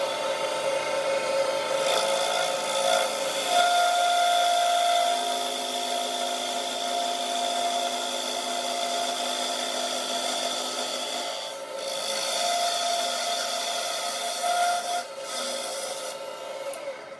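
Wood lathe spinning while a tool cuts an ash bat blank down to length, a steady close scraping and rasping whine with shifting tones that builds and eases as the cut deepens.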